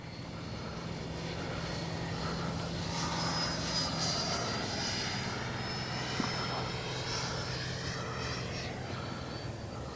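A Freewing 90mm Eurofighter Typhoon RC jet flies overhead with a steady, sustained ducted-fan whine and roar that holds at a moderate distance throughout, with a faint voice underneath.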